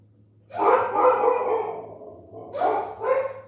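A dog barks and howls nearby in two loud, drawn-out bouts, the first lasting over a second and the second following after a short lull.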